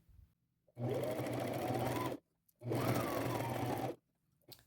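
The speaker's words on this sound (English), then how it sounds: "go back and sew right on the same line you just stitched" A sewing machine stitches a seam on a layered ruffle crossbody purse in two loud, steady runs of about one and a half seconds each, separated by a short pause, close and alone.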